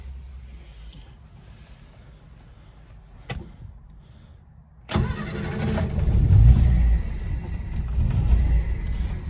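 A 1959 Standard 10 car engine is heard: a faint idle-like rumble and a click, then the starter catches at once and the engine runs up loud and steady nearby, settling into a rough, throaty idle.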